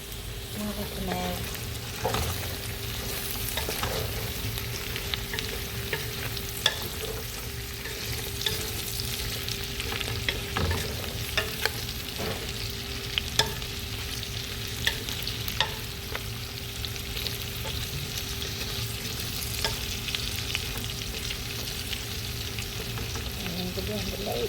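Rib meat and peppers fry in a pan with a steady, close sizzle and occasional stirring scrapes throughout, with no talking.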